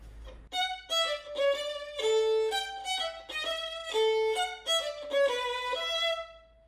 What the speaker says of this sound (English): And what Paganini uses to create that dancing feeling is a dotted rhythm.